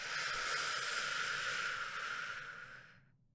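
A long, steady breathy exhale, close and fairly quiet, hissing evenly for about three seconds before tapering off, made while deflating the belly in a calming breathing exercise.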